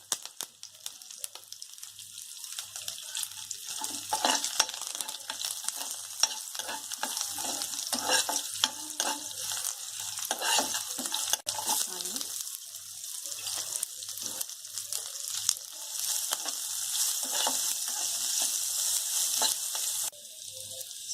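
Mustard seeds and curry leaves sizzle in hot oil while a potato masala for pooris is cooked, a steady bright crackling hiss running throughout with scattered stirring and clinking, no voices.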